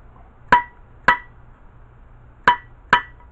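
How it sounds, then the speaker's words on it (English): A hammer with a plastic handle taps a bearing into a transmission during reassembly, four sharp metallic strikes in two pairs with brief pauses between, close and clear against a quiet background. "my other hammer here with a plastic handle"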